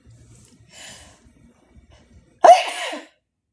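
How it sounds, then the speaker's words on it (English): A single sharp, loud sneeze bursts out close up after something goes down the wrong way, preceded by a couple of seconds of faint breathing and quiet murmuring. "Do you ever have something go down the wrong way and then you sneeze because of it?"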